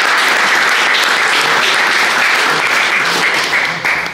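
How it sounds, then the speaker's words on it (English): A crowd claps loudly and steadily for several seconds, a dense, sustained round of applause. "So give yourself a round of applause for that."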